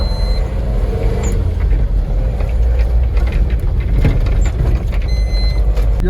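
Tata Intra V50 pickup truck driving at speed, a loud, steady engine and road rumble with wind noise, unbroken throughout.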